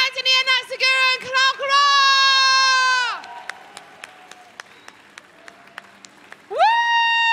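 An audience at a live evening event at London's Roundhouse cheers performers with drawn-out whooping voices, then breaks into scattered claps, and a fresh loud whoop rises at the end.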